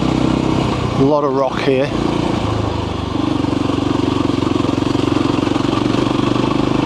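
A Voge Rally 300 motorcycle rides off-road over sand and rock on stock tyres, its single-cylinder engine droning steadily and close, briefly covered by someone talking partway through.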